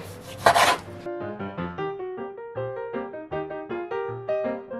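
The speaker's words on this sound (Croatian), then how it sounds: "200 g pilećih grudi naseckajte na sitne kockice." Knife chopping raw chicken breast into small cubes on a board, a steady run of close, crisp cuts after a brief louder scrape, with no talking.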